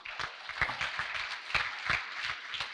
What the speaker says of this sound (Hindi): तो हकीम सईद और अब्दुल्ला गुल साहब के वालिद मोहतरम के लिए ज़बरदस्त तालियां होनी चाहिए।